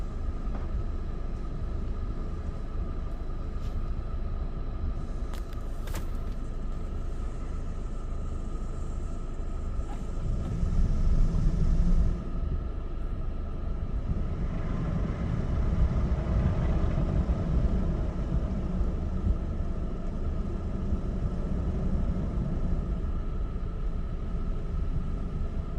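Soft-touch pass of a Mark VII SoftWash XT car wash heard from inside the car, a steady low rumbling wash with a swelling whooshing surge partway through, no voices.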